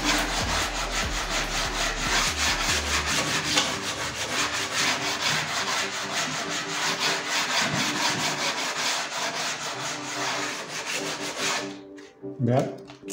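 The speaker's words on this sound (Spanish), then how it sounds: "pasamos una lija de este modo" Steady rasping of sandpaper rubbed back and forth on the edge of wood veneer, close and continuous, ending with a few brief knocks.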